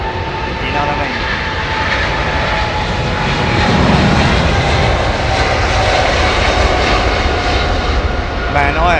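Boeing airliner engines at London Heathrow Airport give a loud, continuous jet roar that holds steady and swells slightly midway through.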